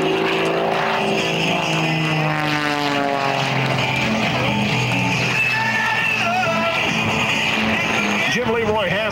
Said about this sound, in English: he flies the Bulldog right down to the deck here at the Quad City Airshow